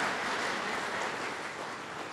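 Applause from an audience at a talk on ancestral tradition, a steady even patter of many hands clapping throughout, moderately distant and without voices.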